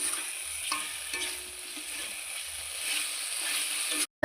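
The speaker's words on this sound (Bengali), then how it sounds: "দুটো দেওয়ার পর আমি আলুটাকে ভালোভাবে মশলার সাথে মিনিট 3 সময় ধরে কষিয়ে নিচ্ছি।" Fried potatoes are sautéed with spices in a pan for a fish jhal, a steady soft sizzle with intermittent scraping strokes of a spatula, ending abruptly in a brief cut.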